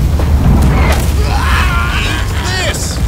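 Ship cannon firing in the naval video game Blackwake, a deep heavy boom and rumbling blast with mechanical clatter, while voices talk over the battle.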